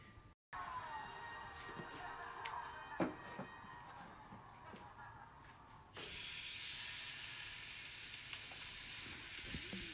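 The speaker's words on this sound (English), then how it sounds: "We're gonna put the salmon in the pan with the seasoned side down" Salmon fillet laid seasoned side down in a hot pan, giving a faint crackle that jumps into a loud, steady sizzling hiss partway through and holds to the end.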